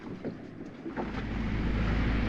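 A sailboat motoring along under engine past cliffs off Guadeloupe, its low steady engine rumble rising and settling in after the first second, mixed with wind buffeting and water rushing close by.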